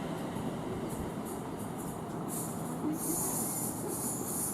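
Train passing through Tamworth on the West Coast Main Line, running from Crewe to London Euston: a steady rumble of wheels on rail with high squealing and metallic hiss building over the last seconds, close and continuous.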